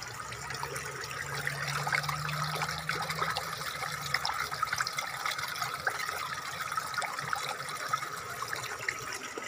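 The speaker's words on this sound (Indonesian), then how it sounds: "Airnya juga mengalir dengan indah." Water flows steadily in a natural stream at an outdoor fishing spot, a faint, continuous trickling wash with no voices.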